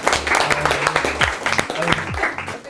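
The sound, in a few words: audience applause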